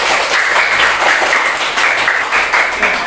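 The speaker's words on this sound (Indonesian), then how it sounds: "Oke, tepuk tangan untuk kalian semua." Schoolchildren in an elementary school classroom burst into loud, dense applause close by. Rapid hand claps run continuously, swelling and easing in waves, with no voices over them.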